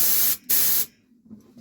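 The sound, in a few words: touch-up spray gun spraying paint on a guitar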